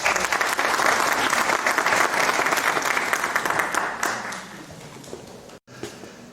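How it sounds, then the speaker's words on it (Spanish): An audience at a lecture on the seven modern wonders and world tourism applauds a visiting speaker, with dense, loud clapping that holds for several seconds, then thins out and stops. "Fuertes aplausos para nuestro visitante."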